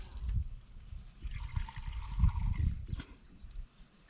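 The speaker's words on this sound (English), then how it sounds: "to 1 cup of rice, you add 2 cups of water" Water poured over a cup of rice in a camp cooking pot, a short trickling splash over a few seconds, fairly close.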